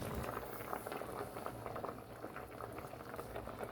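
A pot of vegetables bubbling on the stove, with a busy, steady rolling boil of small pops and gurgles close up and at moderate volume, continuous from start to end.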